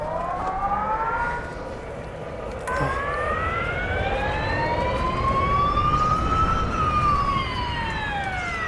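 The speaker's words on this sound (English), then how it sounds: "that bloody annoying sound of somebody's car alarm going off" A car alarm wails with a continuous siren-like tone that rises and falls in long sweeps, loud and steady, over a background rumble with no talking.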